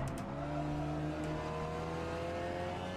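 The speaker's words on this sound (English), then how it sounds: "As it bounces against the rev limiter" A TCR touring car in the Assetto Corsa racing game, at Donington National, holds a loud, steady high-revving engine drone bouncing against its rev limiter, with sustained harmonic whine throughout and no talk.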